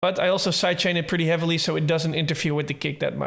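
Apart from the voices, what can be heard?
None of the usual background noises is heard.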